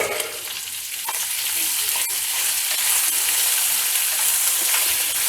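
Green chilli paste ground with coconut and salt fries and hisses loudly in a pan, with scraping stirs and spatula taps over a steady bright sizzle.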